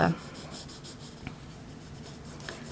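A pencil scratches and rubs across paper in a quiet room, producing faint, close, repeated strokes with a couple of light taps.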